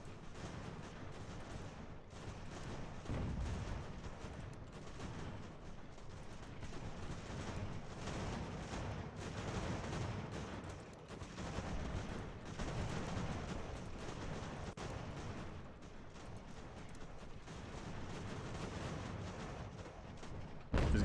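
Distant, rumbling artillery fire in the video game Ultimate General: American Revolution, a continuous muffled roll of booms and crackling musketry at low volume.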